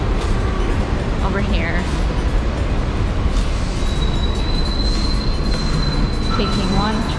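A New York City subway 1 train rumbles loudly into a station, with metallic squeals and a high ringing tone over the constant roar.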